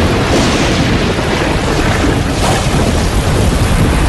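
Steady, loud rain pours down during a thunderstorm, with deep rumbling thunder rolling underneath throughout and no voices.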